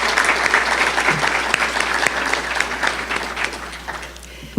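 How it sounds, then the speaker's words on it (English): A conference audience applauds its sponsors at a mental health summit, a dense, steady wash of many hands clapping close by, holding strong before thinning slightly toward the end. "Please give all of our sponsors a big round of applause."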